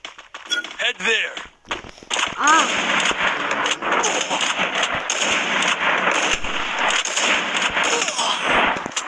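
Shotgun and sniper fire in a video game crackles in a dense, continuous barrage of sharp reports over loud background game noise, with a voice talking over it.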